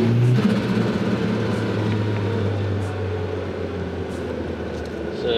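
Turbocharged car engine cruising at quarter throttle, a steady low drone with a continuous hum throughout and faint higher whistling, heard from inside the car.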